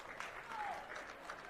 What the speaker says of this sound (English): South Sevier crowd's on their feet. They're clapping.